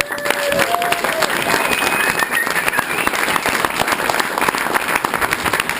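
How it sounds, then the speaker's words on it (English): Audience applause at an event on a Christmas bike trip, sustained loud clapping from a crowd with scattered voices, continuous throughout. "round of applause to them"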